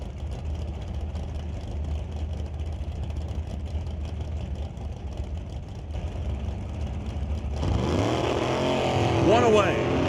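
Drag racing at a quarter-mile strip, with a dragster and a roadster racing down the track. A steady engine roar holds in the background, then swells louder near the end, while an announcer talks over it.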